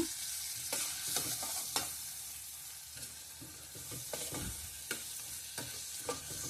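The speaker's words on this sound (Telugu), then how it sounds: "అన్నీ కూడా కలుపుకొని మంచిగా కొంచెం సేపు ఉడికించుకుంటే సరిపోతుంది." Moong dal with cumin powder, garam masala and chili powder is stirred in a hot pan, giving a quiet, steady sizzle with soft, irregular spatula scrapes and taps and no talking.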